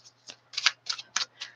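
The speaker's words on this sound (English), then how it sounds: "So we are shuffling again" Tarot cards being shuffled by hand in several quick riffling bursts, crisp and close, separated by brief pauses, with no talking.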